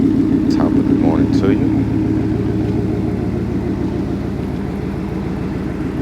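A deep truck engine idles with a steady, throbbing low rumble close by, while a voice speaks briefly over it near the start.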